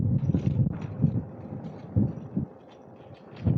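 Strong wind buffets the microphone in low, gusty rumbles that rise and fall while cycling along the Soulac seafront, with no voices.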